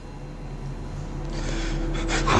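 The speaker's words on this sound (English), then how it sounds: "You hear his breathing? He's afraid." A frightened man breathing heavily and unevenly, close and fairly loud, with gasping, snorting breaths that build in intensity over a couple of seconds, no talking.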